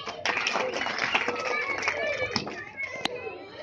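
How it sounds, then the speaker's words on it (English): Children clap together during an outdoor stretching session at a school in Nawada, Bihar, India, brisk irregular clapping mixed with kids' chatter and voices throughout. "Clapping, clapping."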